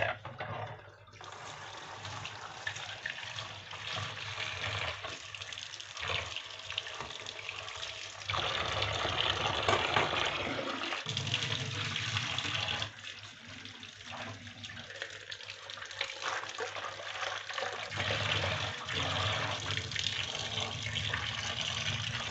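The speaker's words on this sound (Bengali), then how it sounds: "আমি এটা সুন্দরভাবে এবার ধুয়ে নিব। কচলে কচলে ধুয়ে নিব।" Dyed fabric is washed by hand under a running tap, giving a steady close stream of splashing water with rubbing and sloshing throughout.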